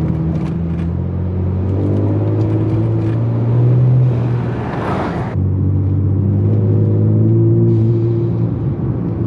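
Ford Taurus SHO engine under load with gears held in sport mode, a close, loud droning rumble that climbs in pitch, drops at a gear change, then pulls and rises again.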